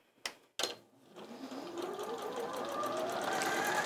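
A Janome sewing machine stitches diagonal rows across a cushion cover. Two sharp clicks come first, then the motor's whirring stitching builds and keeps running steadily, close and moderately quiet.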